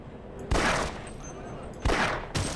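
Gunfire in Half-Life 2: two sharp, loud bursts of shots with a third, shorter crack near the end, sitting over low background game noise.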